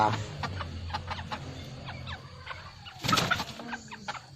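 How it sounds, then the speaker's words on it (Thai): Red junglefowl calls in short clucking bursts, with a louder cluster near the end, over a steady low background hum and faint outdoor noise. "ไก่ป่านะ"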